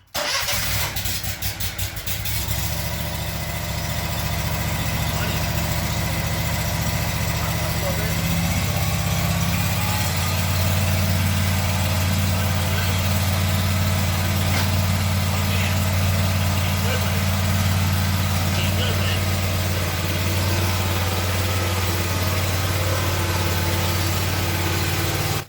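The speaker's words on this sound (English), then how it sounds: "Pull the choke up. Crank it." Gas-powered lawn equipment engine cranks with a few rapid pulls, catches and settles into a steady, loud idle that runs close by for the rest of the stretch, with talk over it.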